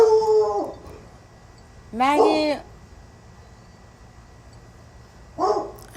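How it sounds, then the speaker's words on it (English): A dog named Maggie barks and howls at neighbours walking past, giving three separate drawn-out, whining bays with pauses between them, close and loud, and a person calls her name once. "Maggie's doing her daily routine of barking at the neighbors walking by"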